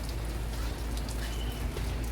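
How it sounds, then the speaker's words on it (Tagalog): Steady rain falls at an outdoor market, a dense, even hiss of drops pattering on surfaces that continues without a break and carries no talking. "ano ulan ano maulan maulan kasi"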